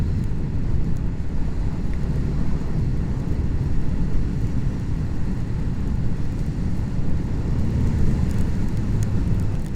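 A motorcycle cruises in fourth gear on a windy day, a loud continuous low engine drone mixed with heavy wind rush, steady throughout with no talking.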